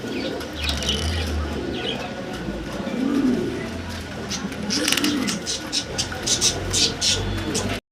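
Pigeons in a pair kept for sale give soft, low coos a couple of times under steady talking, with light rustling and flutters around them.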